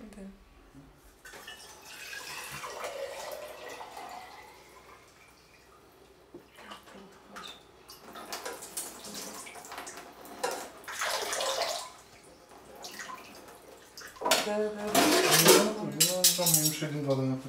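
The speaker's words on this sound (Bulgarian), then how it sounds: "Да измием чиниите." Tap water runs and splashes while dishes are washed by hand in a village house during a renovation, with clinking and gurgling bursts, the strongest splashing near the end, as people talk throughout.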